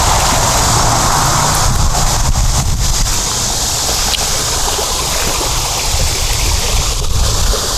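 Water cascades steadily over a five-stack rock water feature, a loud, continuous rushing splash close by with no break or voices.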